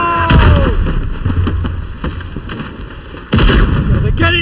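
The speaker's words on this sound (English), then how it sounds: "Artillery inbound. Keep your heads down, boys." Artillery booms and gunfire in a WWI Gallipoli battle video game: sharp, loud blasts and rifle cracks scattered across the scene, a heavy burst near the end, with faint shouted voices in the background.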